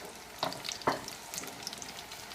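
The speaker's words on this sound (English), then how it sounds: "I'm going to saute the mushrooms." Mushrooms sautéing in oil in a pan, a steady soft sizzle with a couple of sharper clicks or stirs near the start, close and moderately quiet, with no talking.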